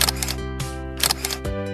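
A camera shutter clicks while photographing strawberries at f/8, 1/125 s and ISO 100, giving a few short, crisp snaps over steady background music.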